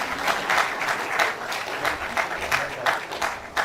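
An audience at an international ICT conference claps in a moderate, uneven patter of individual hands, fairly close and sustained for several seconds.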